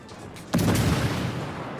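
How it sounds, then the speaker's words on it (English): A destroyer in World of Warships launches its torpedoes: after a quiet lead-in, a sudden heavy thump kicks off a loud rushing launch that fades slowly, close and with no voices over it. "So let's fire our torpedoes."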